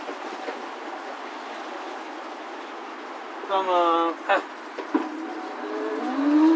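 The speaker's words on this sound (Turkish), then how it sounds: "Şimdi arkadaşlar motorun sesi çok güzel, gidişatı çok güzel, tekne harika." A new boat's engine runs in the harbor, a steady broad hum and hiss throughout, with brief voices and a short tonal sound partway through.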